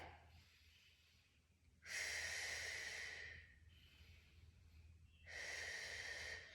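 Breathing during a bear tuck exercise: two long, breathy exhales, each lasting over a second, with quieter inhales between them, close and alone without talk.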